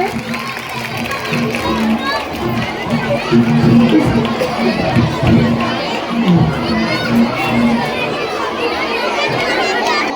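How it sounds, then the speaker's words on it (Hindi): A crowd of schoolchildren at a school cultural program cheers and shouts loudly and continuously, a dense, close wash of young voices and noise with an adult voice audible in the mix. "जोरदार तालियां बजाएंगे, बहुत अच्छे।"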